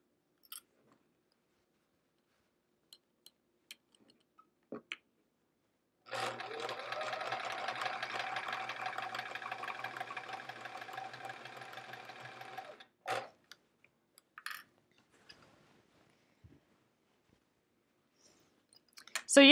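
A sewing machine pushes through bulky quilt seams on a checkerboard border in one burst of about seven seconds, humming close and steady amid quiet, with scattered small clicks before and after.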